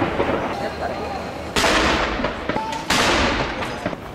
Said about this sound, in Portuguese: São 41 tiros no Hyde Park e 62 tiros na Torre de Londres.